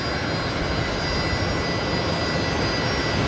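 Qantas jet departing Brisbane Airport on runway 19 left at night, a steady, loud broadband engine roar that holds constant throughout with no talk over it.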